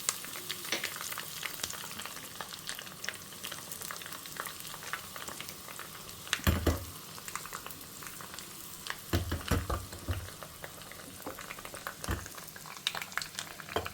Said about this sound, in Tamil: அது கடுகு பொரிய ஆரம்பிச்சுடுத்து